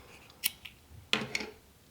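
Scissors snip through a crocheted yarn tail, making three quiet, close, crisp cuts spaced out over a couple of seconds in a calm room.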